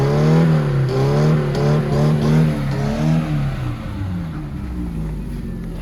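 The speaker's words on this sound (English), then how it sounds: "The engine is running, the car is able to move." Peugeot 405 engine idling and revving close by, a loud steady mechanical drone with rising and falling pitch that settles to a quieter hum toward the end.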